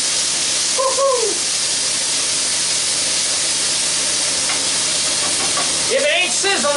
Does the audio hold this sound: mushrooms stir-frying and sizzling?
yes